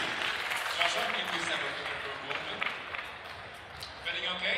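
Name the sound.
audience applause at coffee championship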